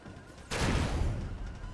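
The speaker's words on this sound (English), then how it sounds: "Just warning shots." Warning shots fired in RoboCraft, one abrupt loud gunfire burst that sets off a dense rumbling wash lingering to the end.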